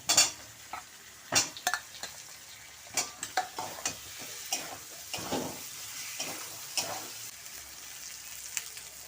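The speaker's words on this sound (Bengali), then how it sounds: "এখন আমি আলু দিয়ে দেব।" Potatoes added to spice masala frying in oil in a pan for a pointed gourd dish, with a continuous sizzle broken by frequent scraping and clanking stirs of a utensil against the pan, close up with no voices.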